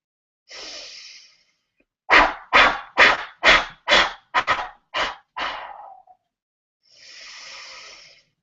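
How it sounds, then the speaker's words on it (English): Eight strong, rhythmic breath puffs blown through the lips in quick succession, framed by a long inhale before and a long exhale after. "blow out through puckered lips in 8 strong puffs."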